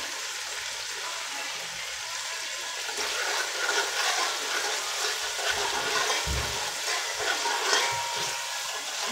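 Puerto Rican rice with pigeon peas bubbling and sizzling in a pot while being stirred, a continuous moderately loud frying hiss with occasional low thumps from the spoon.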